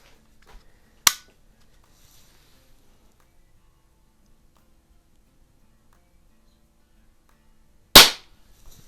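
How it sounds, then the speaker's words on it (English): Break barrel .177 air rifle, an RWS Diana P5 magnum or Snowpeak SP500, fired twice about seven seconds apart, each a single crisp snapping crack in otherwise near silence. "this is a nice shooting gun"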